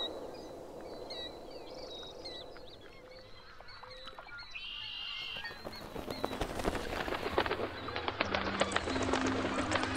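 Swan geese honk repeatedly at first, then a denser flurry of calls and wingbeat-like bursts grows louder toward the end.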